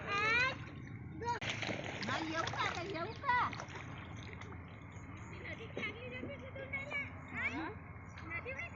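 Feet splash and slosh through muddy water in a rice paddy during planting, with irregular splashes going on while children and adults talk and call out.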